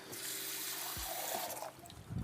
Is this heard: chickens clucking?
no